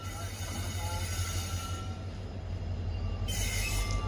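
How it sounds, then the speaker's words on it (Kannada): A special train of ICF coaches hauled by a diesel locomotive rolls past on the Yesvantpur–Vijayapura route, giving a steady rail rumble with clattering wheels and a faint high squeal. "ಯಾವುದೋ ಟ್ರೈನ್ ಬರ್ತಿದೆ ಗುರು ICFಯಿಂದ."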